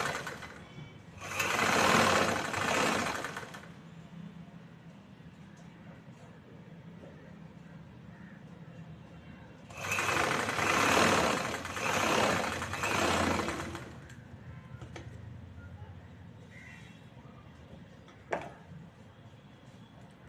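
A sewing machine top-stitches the edge of a choli blouse in two separate runs, each a few seconds of rapid, even needle chatter, with quiet handling between them and a small click near the end.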